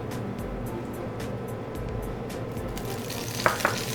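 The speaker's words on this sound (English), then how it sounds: "Oh, it's already sizzling. It's happy." Onion, bell pepper and sweet potato sizzle steadily in olive oil in a Dutch oven, a continuous crackling hiss with a couple of sharper pops near the end.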